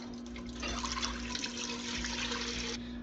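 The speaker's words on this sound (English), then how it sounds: "We're gonna add the broth." Broth pours into a soup pot on a stove, a steady close splashing liquid stream running for a few seconds before tapering off.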